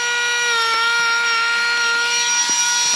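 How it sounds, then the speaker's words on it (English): A small rotary tool fitted with a grinder head cutting through garden strings in a vegetable bed gives a steady, high-pitched whine at close range, with faint brief scraping touches and no talk. "using my little rotary tool with the grinder head on it. It does a nice clean cut"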